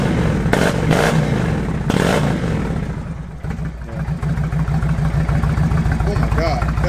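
A 2019 Indian Chieftain motorcycle with a loud exhaust blips and revs in a few sharp bursts, then settles into a deep, lumpy idle. It sounds close and loud, with people talking nearby.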